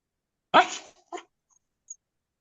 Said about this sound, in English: that bark actually came through